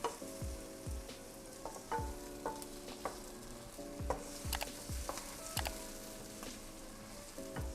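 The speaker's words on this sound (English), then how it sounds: "So you want to saute this until your onions are nice and translucent." Onions sautéing in a pan until soft and translucent, a gentle sizzle punctuated by regular stirring knocks and scrapes of a utensil against the pan, quiet and close with no speech.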